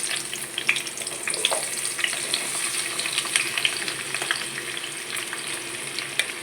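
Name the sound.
bottle gourd pieces frying in oil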